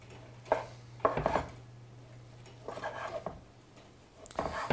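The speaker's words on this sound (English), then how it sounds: "we're just going to slice this" A knife slices through red cod, a flaky white fish, in a kitchen, making several soft scraping cuts with brief knocks against the board, faint over a low steady hum.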